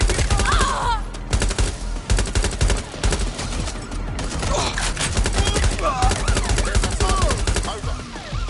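Sustained gunfire in a Watch Dogs Legion police pursuit: dense bursts of automatic shots and sharp single cracks run through the whole stretch, loud and close, over a constant low rumble of vehicles and action.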